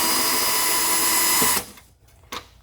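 A power tool fitted with a 7mm socket runs steadily on a Chevrolet Impala headlamp fastener, a loud continuous whir for about a second and a half that stops abruptly, followed by a quiet pause and one short final burst.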